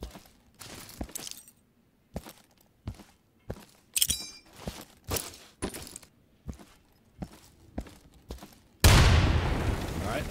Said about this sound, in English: Yeah, throw a frag in there.